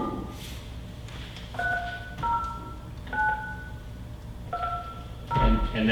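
Telephone keypad DTMF tones sound as a series of short, evenly spaced beeps, about seven presses in a row, over a quiet room murmur in a meeting setting.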